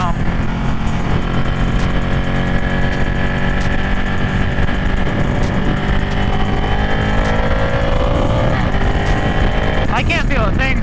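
Honda CBR1000RR motorcycle cruising steadily in third gear, a close, constant engine drone with wind and road rumble running the whole time, while a rider talks over it.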